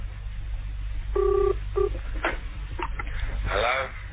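A telephone line rings on a call to a police inspector: two short electronic tone bursts over steady line hiss and low hum, followed by faint voices.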